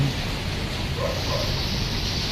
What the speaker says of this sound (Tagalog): lumalakas na naman ang ulan dito sa amin